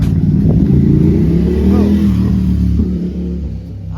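Yamaha R3 motorcycle fitted with an Akrapovic exhaust revving, a loud, steady low engine drone with a brief rising pitch sweep mid-way, close by, with faint talk underneath.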